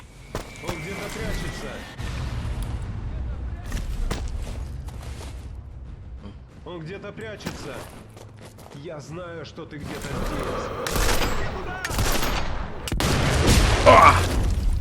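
Sniper rifle shots ring out in the video game Sniper Elite V2 Remastered as a few sharp booms with mechanical clicks between them, mixed with game noise and someone talking over the action.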